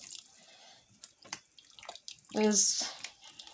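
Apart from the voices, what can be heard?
water being poured into a mix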